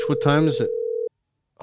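A steady outgoing ring tone on a phone call sounds once as a long even tone after a man's brief speech, then cuts to silence before another voice begins.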